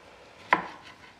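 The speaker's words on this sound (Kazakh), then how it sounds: "Салып жатырмыз, турап жатырмыз." A single sharp knife chop through tomato on a cutting board while preparing an okra dish, close and crisp, with a brief decay and no voices.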